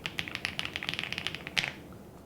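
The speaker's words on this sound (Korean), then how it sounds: "오랜만에 풀 알루미늄 키보드로 타이핑 해보니까" A run of crisp, clicky keystrokes on a Rainy full aluminum mechanical keyboard, quick and fairly even, close and clear, ending with a slightly louder tap and then quiet.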